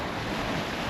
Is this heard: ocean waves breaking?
yes